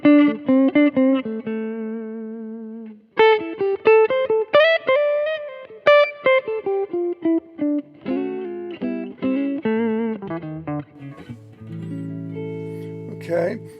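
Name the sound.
electric guitar through warm clean channel, Lawler Charlie Christian pickup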